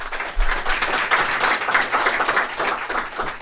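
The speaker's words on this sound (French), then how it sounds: "On peut leur donner une main d'applaudissement." A small group claps warmly on a podcast recording, producing a brief, lively patter of hands at fairly close range with gentle swells in loudness and no speech.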